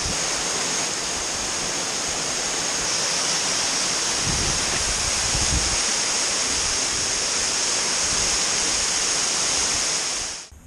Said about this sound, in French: Voilà, en dessous de la cascade